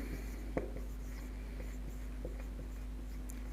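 Marker or chalk scratching across a board during a chemistry lesson on point groups, a faint, steady scraping with a few soft taps, low under a constant background hum.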